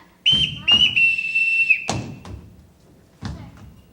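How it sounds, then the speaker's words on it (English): A sharp whistle blown to call children sounds in two quick blasts followed by one long sustained tone, each marked by thumps, then a few dull knocks afterward with no talking. "I won't have to whistle for them"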